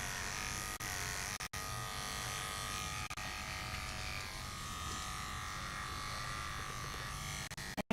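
Electric clippers buzz steadily and close up while shaving a poodle, a continuous high whir with a few brief catches and dropouts as the blade moves through the coat.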